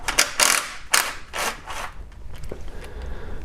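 Ratchet with a 10mm socket turning the oil pan bolts on a Kia during a transmission solenoid job, giving several quick close clicking bursts and then quieter handling noises.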